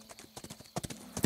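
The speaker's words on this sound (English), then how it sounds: "Why did I get the smallest horse in the whole garrison?" Cartoon horse hooves clip-clop in a quick, uneven run of close, crisp knocks, a short burst of steps.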